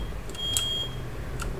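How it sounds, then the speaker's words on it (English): Fire alarm beeping in the Fallout 3 video game, a short steady high-pitched tone sounding over a low background hum with faint electronic blips. "Fire alarm going off."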